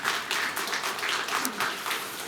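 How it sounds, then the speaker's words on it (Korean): A church congregation applauds the choir in a sanctuary, a burst of many hands clapping in uneven swells that fills the room for a couple of seconds. "우리 찬양대에서 크게 다시 한번 박수 한번 주시면 감사하겠습니다"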